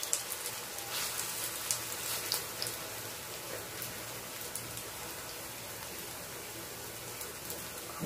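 Steady rain from a passing typhoon falls continuously on outdoor surfaces, a dense even patter with scattered sharper drops, moderately close and alone.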